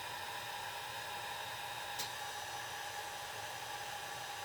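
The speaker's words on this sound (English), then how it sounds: "with the blow dryer, you can hold it closer to the paper without warping it" A blow dryer blowing on alcohol ink on paper, a steady broadband whoosh with a constant motor hum and no pauses.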